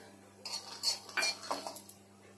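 Peanuts dry-roasted without oil in a kadhai, a spoon stirring them with several clinking metal scrapes and rattles against the pan, fairly quiet and close, with no talking.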